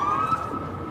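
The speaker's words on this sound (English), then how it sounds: "Keep that siren down, man." Police siren wailing in a New York City street, a single high tone sweeping briefly at moderate distance over background street noise.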